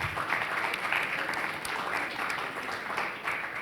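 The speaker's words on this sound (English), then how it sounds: "So a big applause to Karan Bhatia and team." Audience applause at a marketing communication panel event, a steady wash of clapping from a crowd filling the room evenly throughout, moderately loud without any voices over it.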